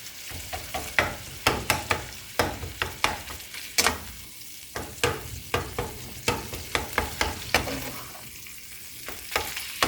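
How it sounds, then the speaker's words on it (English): Ground beef sizzles and fries in a pan while being browned for fideo, with frequent scraping stirs of a utensil across the pan in a steady irregular rhythm, close and moderately loud, without talk. "the meat don't take that long to brown. So I'll just start browning that too"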